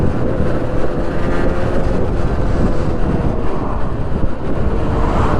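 Two-stroke Yamaha R1-Z motorcycle riding along, a steady loud engine drone mixed with heavy wind rush across the microphone, continuous throughout with no talking.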